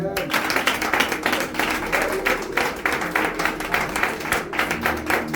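A church congregation claps in steady rhythm with voices acclaiming and cheering throughout, a dense, lively sound of many hands and mixed singing or shouting.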